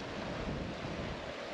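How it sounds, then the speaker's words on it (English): Wind gusts across open ground in a Scottish glen on a dreich, damp day, a steady low rushing roar buffeting the microphone with no voices. "Fairly windy."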